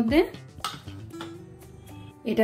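A metal tiffin carrier handled up close, sharp clanks and ringing clinks at the start and end, with a short resonant metallic hum between them.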